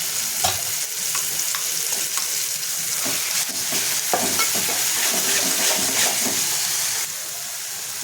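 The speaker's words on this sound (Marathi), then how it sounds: "एक छोटा कांदा मी चिरून घेतलेला आहे बारीक चिरून घेतलेला आहे आणि एक टोमॅटो हे आपल्याला परतून घ्यायचं आहे" Chopped onion, tomato and ground paste sautéing in a pan for a fresh cashew vegetable dish, a loud continuous sizzle up close with repeated scraping and stirring strokes, no talking.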